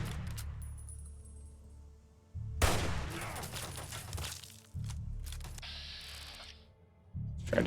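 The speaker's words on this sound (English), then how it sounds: "Try to shoot him in the arm." Weapon fire in the video game Fallout 3 comes in several loud, abrupt bursts with crackling reports and ringing tails, spaced a couple of seconds apart over a low background hum, with no voices.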